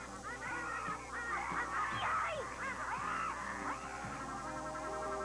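A wild duck in a cartoon lets out a run of loud, nasal honks over a steady background hum, repeating quickly for several seconds without any dialogue.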